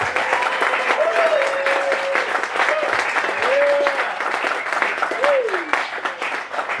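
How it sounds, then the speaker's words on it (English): Audience applause at a school hall of fame ceremony, a sustained wash of many hands clapping steadily in a large room, with a few cheers or whoops rising over it. "Let's give one more round of applause for Drew,"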